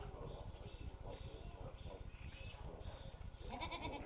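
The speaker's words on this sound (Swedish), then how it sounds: "Oj, här har vi en get." A goat bleats at a village farmyard in Grajevce, heard through a dull, muffled recording with low rumbling noise and faint voices nearby.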